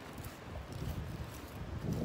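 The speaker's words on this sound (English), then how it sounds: "It's very windy out here." Steady outdoor wind noise buffets the microphone, a low continuous rumble that swells slightly toward the end, with no voices.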